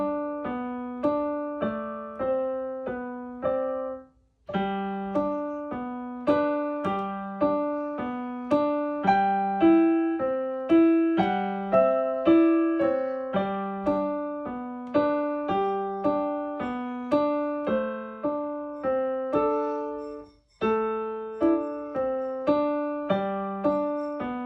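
A solo piano practice piece is played with both hands at a steady, unhurried pace, a low bass line under a higher melody, with two brief pauses and no talking.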